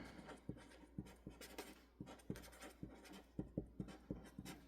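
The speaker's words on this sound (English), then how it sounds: "We're just going to write it down." A pen writing by hand in a faith planner: quiet, close scratchy strokes with sharp little taps in an uneven rhythm, alone.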